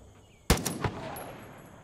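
A single gunshot from a gun in the video game Far Cry 5, a sharp loud crack with a short echoing tail and a second smaller report just after, then fading ambience.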